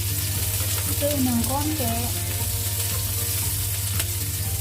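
Onions, garlic and ginger sizzle steadily in a hot pan for a pork and eggplant stir-fry, a close, continuous frying hiss with a constant hum beneath and a short spoken phrase over it.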